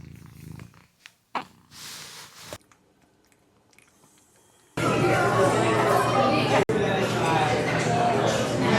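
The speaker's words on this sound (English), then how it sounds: "She will hiss and growl all the way up until I'm touching her, and suddenly she's purring." A cat that hisses and growls until touched purrs close to the microphone, a loud steady low rumble starting about halfway through after a quieter stretch of faint handling noises.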